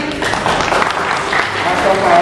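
Audience applause at a business event marking a tempe export launch, a busy, fairly loud patter of clapping with some crowd voices mixed in throughout.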